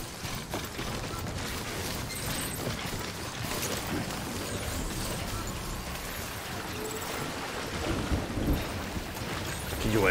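Steady rain hisses across the whole stretch in the video game Death Stranding, with low rumbling beneath it and a louder swell near the end.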